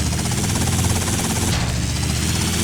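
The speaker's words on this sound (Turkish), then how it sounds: "Helikopter lazım diyordum. Helikopteri aldım." A helicopter in a modded GTA Vice City game, its loud, dense rotor chop and engine roar filling the whole stretch continuously at close range.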